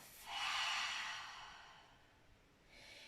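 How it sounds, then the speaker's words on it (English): A slow deep breath during a yoga flow in downward facing dog, drawn in through the nose and let out through the mouth as a soft airy rush, faint and close, with a second breath starting at the end. "Inhale through your nose. Exhale through your mouth."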